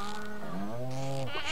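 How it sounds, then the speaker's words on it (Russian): A cow in the farming video game Stardew Valley lets out a single drawn-out, tonal moo that dips in pitch and trails off, clear and alone over a faint game backdrop. "коровка."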